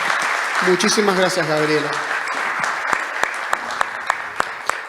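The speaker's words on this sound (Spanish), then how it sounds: "Bien, un fuerte aplauso, le brindamos." Conference audience at a judicial offices meeting in Neuquén breaks into applause while someone speaks briefly at the start, then steady clapping continues with a few sharp individual claps standing out near the end.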